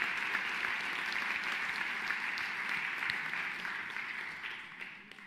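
An audience applauds after a vocal competition performance with the Johannesburg Philharmonic Orchestra, a dense sustained wash of clapping that holds steady and then gradually fades toward the end.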